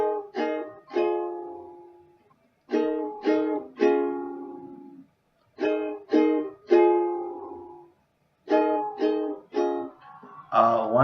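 Ukulele strumming the repeating chord progression of a song, played in four bursts of quick strums with short pauses between them, clear and close with no talking.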